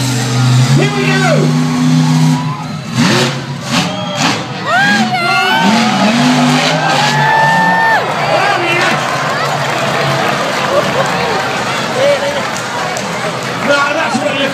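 Monster truck Big Top 17 revs and roars through a run at Truck Fest, its engine rising and falling in loud surges while an announcer talks over it and a crowd cheers.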